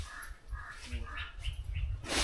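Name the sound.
crow cawing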